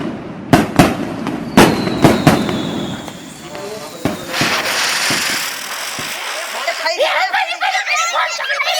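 Diwali firecrackers and rockets go off in a string of sharp, loud bangs, with a rocket's rising whistle in the middle and crackling bursts toward the end, under excited voices, laughter and chatter.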